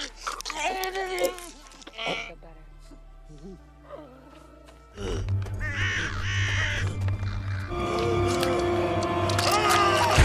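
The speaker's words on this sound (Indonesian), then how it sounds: "banyak burung gagak berdatangan" Crows cawing in a film scene where many crows flock to a body covered in animal carcasses, harsh calls repeating over a rumbling, busy soundtrack with music and other noise.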